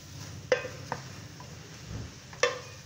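Chopped vegetables such as capsicum and coriander being stirred in a cooking pan, a few sharp metallic spoon clinks against the pan over a faint, soft sizzle; quiet and close, no talking.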